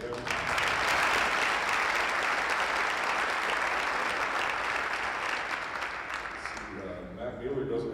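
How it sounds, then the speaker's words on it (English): A crowd at a welcome-home celebration for 2018 11AAA state champion football players gives loud, sustained applause for a coach, dense clapping and cheering that holds steady for most of the stretch and then tapers off near the end. "Please clap for him."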